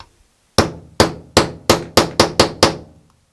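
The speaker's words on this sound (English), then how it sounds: "I'm going to punch a hole in here and use a bolt to secure this thing down." Eight sharp hammer blows drive a punch through gasket material, close and loud, spaced about a third of a second apart and quickening slightly toward the end, with nothing else heard.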